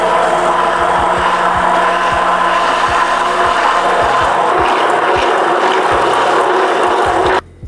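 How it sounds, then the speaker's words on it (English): Immersion stick blender whirring steadily through butter chicken sauce in a mixing cup, a loud continuous motor drone with irregular low thumps, running alone for about seven seconds before cutting off abruptly. "We're going to break out the stick blender or the hand blender, immersion blender, whatever you want to call it."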